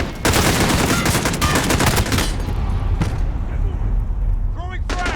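In the Modern Warfare campaign, rapid machine gun fire and other gunshots rattle loud and close in dense bursts, then thin out into scattered shots while soldiers shout.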